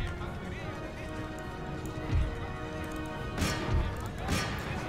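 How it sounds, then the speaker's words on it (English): Cavalry horses charge in the battle strategy game Empire: Total War, with a steady patter of hooves, scattered battle thuds and a few louder crashing surges, while someone talks over the action. "because they are being attacked by a unit of horse."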